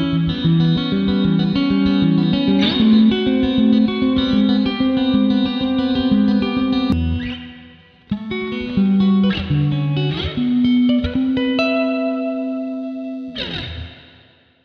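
A clean-toned electric guitar, looped in Ableton, plays layered chords and a melody, with shimmering chorus and effects, pausing briefly midway before resuming.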